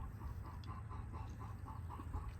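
Chickens on a country property cluck in a steady, repeated rhythm, a busy flock sounding fairly close over a constant low background rumble.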